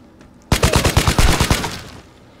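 ADR rifle firing in the video game Vigor: one loud, close burst of about ten rapid shots lasting roughly a second, then a short fading tail.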